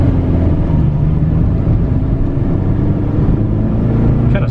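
A stock K24-engined Honda Civic EP3 driving along a road, its engine a steady, loud droning hum with low rumble throughout, heard continuously from inside the car with no talk.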